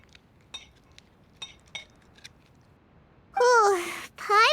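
Cutlery and dishes clink lightly in Genshin Impact during a festival meal, a few sparse metallic taps and chinks spread out quietly before a character's voice breaks in loudly near the end.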